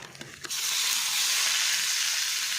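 Bangda mackerel coated in green masala fries on a tawa over banana leaf, giving a loud, steady sizzle that rises sharply after a few soft crackles and then holds as a dense, close hiss.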